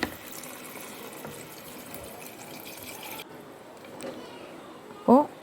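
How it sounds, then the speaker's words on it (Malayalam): Water poured into a cooking pan holding tomato and potato, a short splashing fill near the end after quiet kitchen background, close by. "ഉരുളക്കിഴങ്ങ് ഇട്ട് ഒന്നെല്ലാം കൂടി മിക്സ് ചെയ്തിട്ട് കുറച്ച് വെള്ളവും കൂടി നമുക്ക് ആഡ് ചെയ്ത് കൊടുക്കാം."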